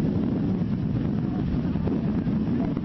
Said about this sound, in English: These football players brave strong, steady winds and ferocious gusts to get their game in